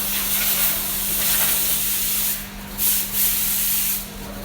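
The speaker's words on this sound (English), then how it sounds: "These machines is plastic sorters." Plastic flake sorting machines run inside an AMD factory, giving a steady loud hiss and rushing noise with a constant low hum, broken by a few brief louder puffs near the end.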